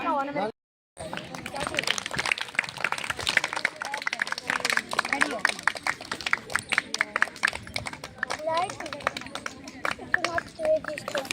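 A crowd claps at an International Women's Day and Holi gathering. The dense, scattered hand claps run steadily for about ten seconds after a brief pause, with voices chattering underneath.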